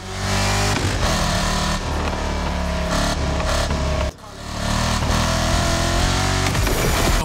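A Cadillac Escalade styled as a donk in a racing video game, its engine droning loud and steady, dipping briefly mid-clip before surging back up, with no talk over it.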